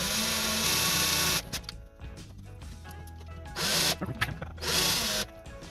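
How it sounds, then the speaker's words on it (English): A power drill whines loudly in bursts, grinding against metal in a Power Mac G5 case, between quieter stretches of mechanical rattling and scraping. "This lip here is locking the drill."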